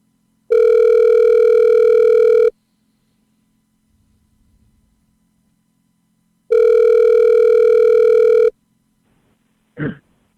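A telephone rings out while a show guest is being called: two long, loud electronic ring tones about two seconds each, separated by silence, followed by a brief click as the line picks up.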